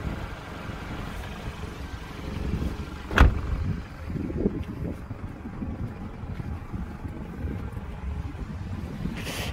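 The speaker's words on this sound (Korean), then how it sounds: "엔진 소리가 좀 좋지 않네요." A used, high-mileage Hyundai Avante MD with a fault runs with a rough, steady low rumble close by, broken by one sharp thump partway through. No one speaks.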